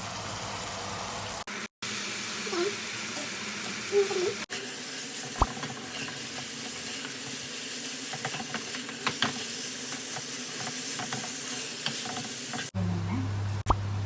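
Spaghetti dropped into a pan of oil and chilli flakes, a steady close sizzle and hiss with scattered scraping and stirring knocks between short breaks, and a faint voice now and then.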